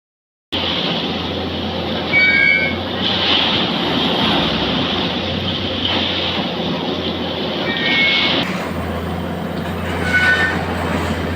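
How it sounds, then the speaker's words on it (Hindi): A track packing machine works slowly on the railway line just outside Kichha station, giving off a steady heavy mechanical rumble with a few brief high metallic squeals over roughly eleven seconds and no voices. "यहाँ पर आप देख सकते हैं किस प्रकार से अब ट्रैक पैकिंग मशीन अपना कार्य कर रही है किच्छा स्टेशन के आउटर पे धीमे धीमे"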